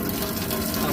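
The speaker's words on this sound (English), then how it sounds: "we can pull the water through the taps in the kitchen and the washroom" Water rushes steadily from a caravan kitchen tap on a Coachman Olympia 380, a continuous close gushing flow with no breaks.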